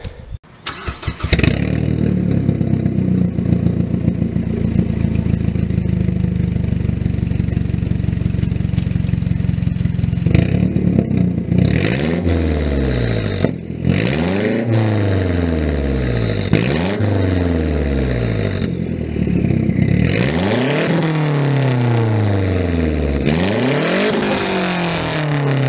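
A Mazdaspeed 6 with a stock 2.5-inch mid pipe and 2.5-inch axle-back mufflers starts and idles with a loud steady drone, then revs repeatedly in sharp rising and falling bursts, close and alone.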